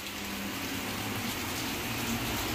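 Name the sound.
rain falling outside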